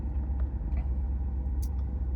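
A car engine idles with a steady low rumble close by, continuous and unvarying, with a few faint high clicks on top.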